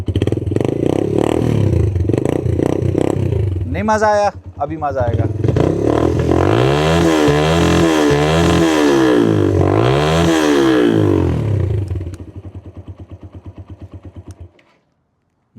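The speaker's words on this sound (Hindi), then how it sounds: "अब इसे हम रेव अप करके देखते हैं साउंड कैसी बनती है इसकी।" A 2023 Suzuki GS 150 motorcycle with a modified, loud, throaty exhaust revs hard several times in rising and falling bursts, then cuts out. Someone speaks briefly near the start.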